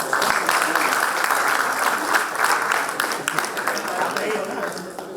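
An audience applauds a lucky draw winner at a seminar, with dense, steady clapping filling the whole stretch and voices mixed in.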